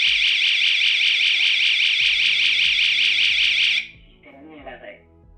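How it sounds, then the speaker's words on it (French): A loud electronic siren from a Zigbee smart home alarm wails in a fast repeating warble, then cuts off abruptly, leaving quieter clicks and a brief voice. "l'alarme va se déclencher et faire sonner la sirène"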